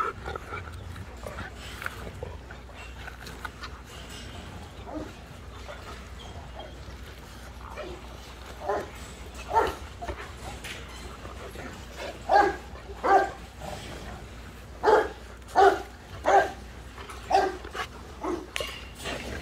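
A pack of dogs eating together at feeding time, with repeated barks and yips that grow louder and more frequent toward the end over a steady low background, and some voices in between.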